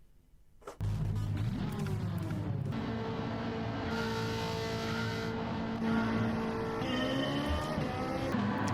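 Race cars roll into a rolling start at Monza in Gran Turismo 7, GT Alphas sprint race with a Ferrari 458. Engines rise from quiet into a loud, sustained roar with climbing gear-change tones and layered passing cars.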